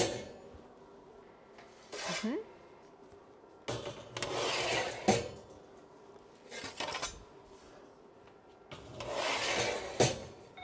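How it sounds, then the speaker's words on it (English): Trays of croissants and other products clatter and scrape as they slide into a Convotherm mini combi oven in a coffee shop, several separate metallic bursts broken by quiet pauses. "we just simply load our products into our oven"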